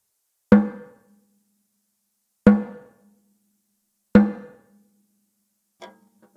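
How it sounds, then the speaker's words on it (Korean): A snare drum with its snare wires lowered gives three evenly spaced, dry, tom-like hits, close and clean in silence, followed by a fainter fourth stroke. "요걸 내리면 옆에 이렇게 레버로 내리면 이런 소리가 납니다"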